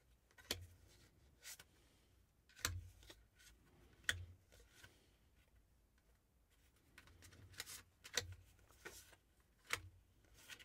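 Tarot cards being handled during a love reading, with scattered soft snaps and flicks of card stock spread across the stretch, fairly quiet and close, with no talking.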